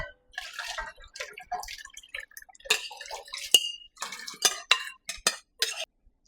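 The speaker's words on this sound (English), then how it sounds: "Now I'm going to add the hominy corn." Dried hominy corn for a Jamaican porridge is poured into a pot of boiling salted water, giving scattered close splashes, drips and sharp clinks against the pot in irregular bursts.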